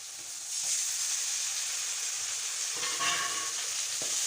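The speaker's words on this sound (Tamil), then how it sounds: "தக்காளி சேர்த்து நல்லா வதக்கிக்கோங்க." Tomatoes sauté in a hot pan with a steady, bright sizzle and hiss, a few louder crackles and stirring scrapes breaking through, close and constant with no talk.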